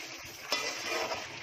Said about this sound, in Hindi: मेरी बेटी के अंडे पका रही हूँ उसके लिए।